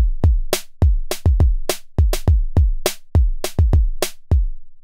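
Roland XV5080 kick and snare play a simple variation beat, deep booming kicks alternating with sharp, bright snare cracks in a sparse, regular pattern, up close and alone.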